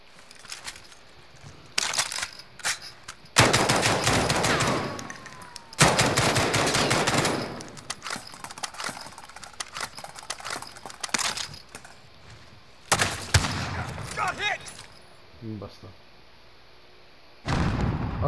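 AK-47 and other guns fire in Call of Duty Warzone, loud close bursts of automatic shooting in long rattling strings broken by short pauses and scattered single shots, with no talking.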